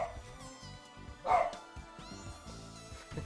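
A pet dog named Daisy gives one sharp, fairly loud bark about midway through, with quieter yips around it, over steady melodic background music.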